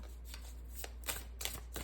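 Tarot cards being shuffled by hand, several quick soft riffles and slaps in irregular bursts, close and fairly quiet, with no talking.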